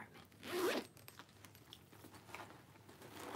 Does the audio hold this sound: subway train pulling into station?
no